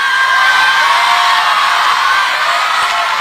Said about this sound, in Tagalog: Nadinig mo yung sigawan ng tao sa'yo?